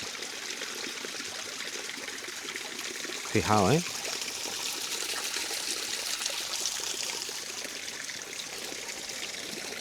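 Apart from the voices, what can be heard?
water constantly trickling out of the ground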